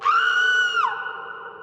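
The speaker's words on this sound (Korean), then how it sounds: "그리고 잠시 후 멀리서 비명소리가 들려왔다." A distant scream sound effect in a Korean horror tale: one high, sustained cry that holds steady, then drops in pitch and fades into a lower lingering tone, heard alone.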